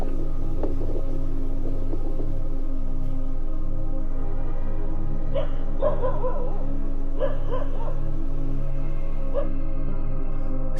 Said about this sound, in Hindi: रात के अंधेरे में कुत्तों का एक झुंड किसी अनदेखी चीज पर जोर जोर से भौंक रहा था।